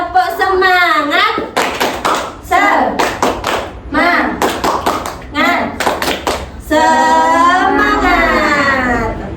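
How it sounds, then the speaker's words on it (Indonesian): A classroom group does a rhythmic cheer clap, several bursts of quick patterned hand claps at close range, alternating with loud talking and chanting voices. "Tepuk semangat."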